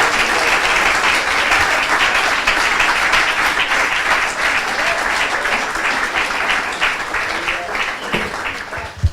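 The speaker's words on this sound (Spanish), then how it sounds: "Dele un aplauso al Señor." A church congregation applauds steadily throughout, dense sustained clapping at even loudness with voices mixed in beneath.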